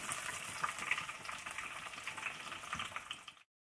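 Onion and curry leaves sizzling in about two spoons of hot oil in a home kitchen pan for pasta, a steady close crackling fry that cuts off abruptly near the end, with no talking.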